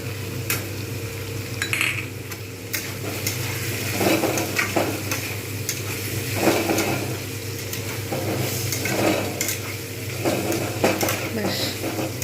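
Ginger paste fries with spices in a pan for a potato-and-pointed-gourd barnyard millet khichdi, giving a steady low sizzle broken by repeated spoon stirs and scrapes against the pan throughout.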